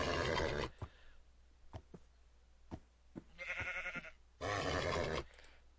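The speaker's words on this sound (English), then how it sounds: "Here's a horse." Horse in the Minecraft video game neighing in short, bright whinnying bursts, three separate calls spaced by quiet gaps and soft clicks.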